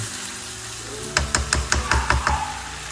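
Ground spice paste fries in a pan for an Indonesian squid dish, a steady background sizzle broken midway by a quick run of sharp, evenly spaced stirring taps and scrapes.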